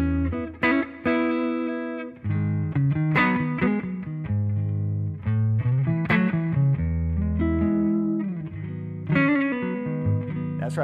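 Loud, overdriven electric guitar on the bridge pickup through a cranked Hiwatt T20/10 amp feeding a Weber Mini Mass attenuator, playing sustained chords and bluesy lead phrases with a few brief gaps, no voices.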